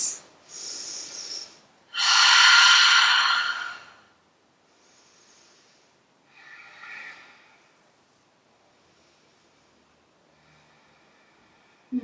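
Deep yoga breathing in star pose: a short nasal inhale, then a long, loud breathy exhale up close, followed by softer, fainter breaths in a quiet room.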